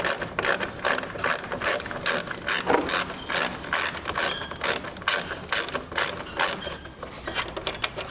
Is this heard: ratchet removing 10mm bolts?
yes